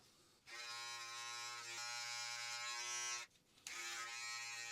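A Norelco Philips electric clipper trims a beard with a close, steady buzzing hum, briefly dipping at one point before resuming and continuing to the end; no talking.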